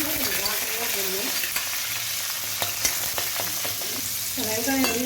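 Peas and vegetables sizzle and fry steadily in a pan for veg pulao, a close continuous crackle with occasional sharp pops and stirring scrapes.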